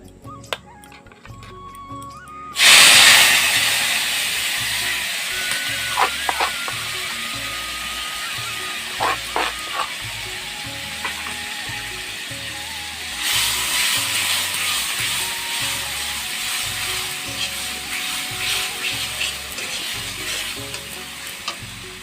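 Spices dropped into hot oil for a Rui fish head and taro curry burst into a loud, close sizzle that settles to steady frying, with scattered clinks of a spatula and a second surge of crackling later.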